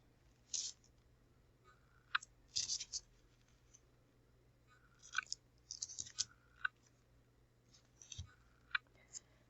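Paper cut for an envelope craft, heard as a few quiet, crisp snips and scrapes in short irregular bursts over a hushed, steady background.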